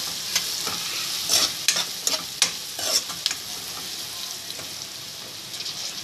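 Onions fry with turmeric in a pan for an okra and egg fry, giving a steady close sizzle. Sharper crackles and scraping stirs break through now and then.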